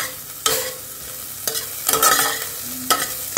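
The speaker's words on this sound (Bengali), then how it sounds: "অল্প একটু সতে করে নিচ্ছি" Whole garam masala being stirred and sautéed in a hot pan, with a steady sizzle broken by several sharp scrapes and stirring knocks, close and clear with no talking.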